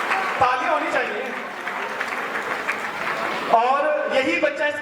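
Applause rises and holds under a voice as an audience claps steadily at a school annual function; the clapping swells briefly near the end.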